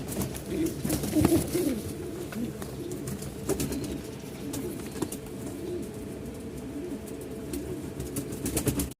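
Lahori pigeons coo softly in low, rolling calls, close by and steady, with faint fluttering and background noise.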